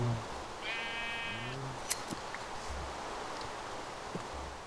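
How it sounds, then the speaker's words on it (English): A sheep in a video game gives a short bleat, with a second fainter bleat after it, over soft rustling and a few light clicks. "Oh, another sheep."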